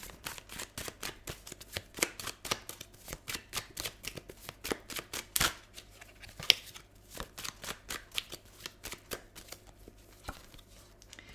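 Tarot cards are shuffled by hand in quick riffling bursts, a long run of crisp, close slaps and flutters with brief pauses between, no talking over it.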